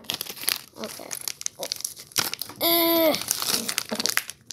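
Plastic blind-pack packaging for Halo Mega Bloks crinkles and crackles as it is pulled and worked open up close, in busy irregular bursts, briefly broken by a short high squeak partway through.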